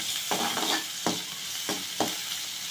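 Sliced big onions sizzle in hot oil for garlic kuzhambu, a steady frying hiss punctuated by four or five scraping strokes of a spoon stirring the pan, close up and with no talk.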